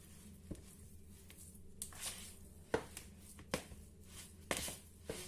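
A spoon works through wholemeal bread dough for small rolls in a bowl, giving faint soft squishing and scraping strokes with occasional sharper taps against the bowl, quiet and irregular.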